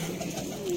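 Soft, close cooing from red pigeons kept by a pigeon fancier in Sialkot, a brief low murmuring call heard against quiet background.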